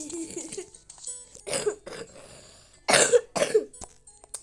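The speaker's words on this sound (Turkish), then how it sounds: "evet bayağı öksürüyorum." Several harsh coughs come in separate bursts, close and fairly loud, with quieter throaty vocal sounds between them.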